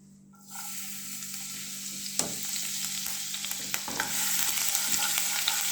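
Sunflower oil frying in a pan on a gas stove, a steady close sizzle that starts abruptly and grows slightly louder, with scattered pops and stirring clicks and no talking.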